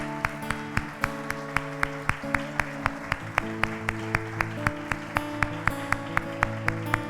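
A church congregation claps in a steady, even rhythm during a communion service, the sharp claps evenly spaced and fairly close, with faint music or voices sustained underneath.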